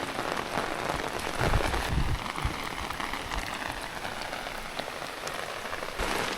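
Heavy rain pours steadily during a storm in Laos, a dense, even hiss of drops striking surfaces nearby, with a few louder splashes early on and no voices.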